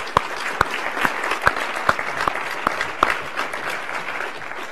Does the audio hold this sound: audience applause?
yes